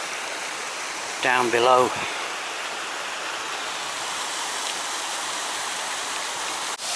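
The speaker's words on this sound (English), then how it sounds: "let's have a look at this waterfall" A small forest waterfall in the Rhinog hills pours with a steady, broadband rushing that fills the whole clip, and a voice speaks briefly near the start over the continuous water.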